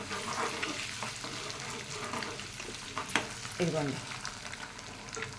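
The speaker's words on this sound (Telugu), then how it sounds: "ఇలాగ వేపుకుంటే గుడ్డు బాగుంటుంది." Eggs frying in a pan for an Andhra-style egg masala curry, with a steady sizzle, stirring and scraping, and someone speaking briefly over the cooking.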